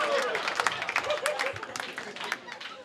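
Comedy special audience applauding and cheering, a dense burst of clapping that slowly fades, with a voice talking over it.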